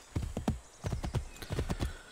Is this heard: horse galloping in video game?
yes